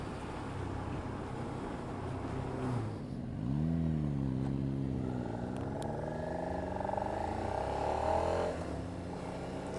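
A Suzuki SV650 motorcycle engine with stock exhaust revs up through rising gear pitches, a steady throaty drone that climbs and dips as it accelerates, with wind noise.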